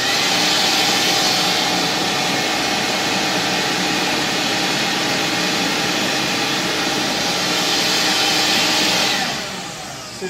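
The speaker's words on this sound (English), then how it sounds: "I'll now turn on the vacuum to simulate flow in the meter." A loud, steady whirring roar of a vacuum motor runs continuously, then winds down near the end.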